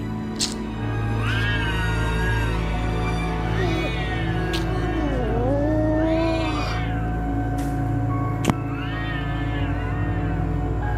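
Several drawn-out cat meows and yowls at night, rising and falling in pitch, repeat over a steady low background hum, with a sharp click near the end.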